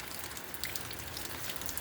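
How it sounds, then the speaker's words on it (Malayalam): Summer rain falls steadily, a soft, even patter of drops on surfaces with a few brighter splashes mixed in, fairly quiet and without any voices. "ശക്തമായ മഴ വേനൽക്കാലത്ത് പെയ്യാറുണ്ട്, വേനൽ മഴ"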